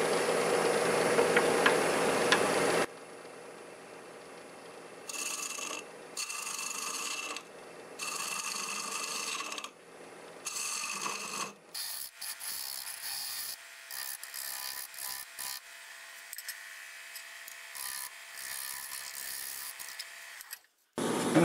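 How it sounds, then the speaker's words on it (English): A wooden small-glass rim is trimmed and sanded on a wood lathe, giving quiet, intermittent rasping bursts with pauses between passes and a steady whir underneath. "Now it's time to trim this rim to the inside, face it off, finish sanding it"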